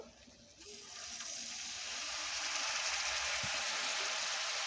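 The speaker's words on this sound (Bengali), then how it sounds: "অল্প একটু জল দেব" Water pours steadily into a pan of spiced masala for a silver carp fish curry with raw tomatoes, a close, continuous rushing splash that builds and holds without talk.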